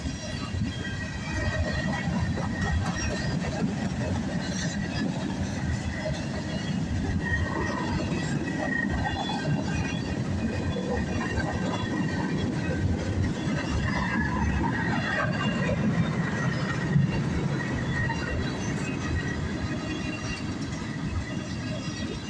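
A northbound CSX freight train hauling tank cars rolls past close by, its wheels giving a steady, loud rumble with clanking and faint metallic squeals throughout, and no other sounds break in.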